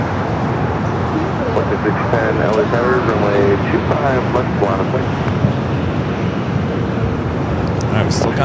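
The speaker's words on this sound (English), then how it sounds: "the Delta A350, the LA-28 Olympics livery, rolling down to 24 left there on the north side." A Delta Airbus A350 in LA28 Olympics livery taxis toward runway 24 Left at LAX with a steady engine roar and whine, heard from a distance under ongoing talk and background traffic.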